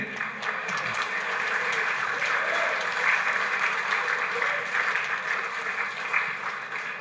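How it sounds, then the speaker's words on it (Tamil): A lecture hall audience claps in a dense, sustained wash of applause that holds steady and fairly loud throughout, with a faint murmur of voices underneath. "நீங்கள் எதற்கு கைதட்டுகிறீர்கள் என்று எனக்கு இப்போது புரியவில்லை."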